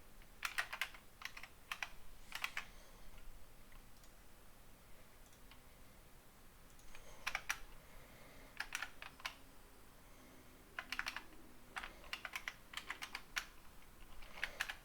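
Quiet bursts of computer keyboard typing while C++ code is being written, rapid clusters of key clicks separated by short pauses, close and fairly soft, with no talking.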